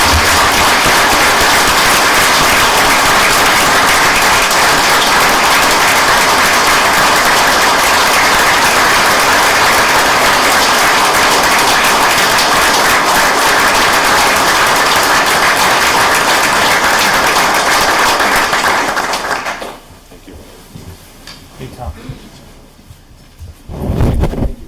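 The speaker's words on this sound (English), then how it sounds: "Please share a round of applause for these professionals." Council meeting audience gives loud, sustained applause for firefighters and police officers, a dense wash of clapping that runs about twenty seconds before breaking off abruptly into quieter room noise.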